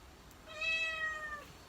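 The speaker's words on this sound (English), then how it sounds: "Sorry if you can hear noise in the background, my cat's prowling." A single drawn-out cat meow, clear and fairly close, rising then falling over about a second against quiet room background.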